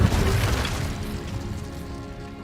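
Incendio fire spell cast in the Hogwarts Legacy video game, a loud burst that blooms into a roaring whoosh and slowly fades over a couple of seconds, with no talk over it.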